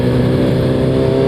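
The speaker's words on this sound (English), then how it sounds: "Maybe you don't like the sound of the engine," A motorcycle engine running steadily while cruising, a loud, close, continuous drone with no gear change audible in this short stretch.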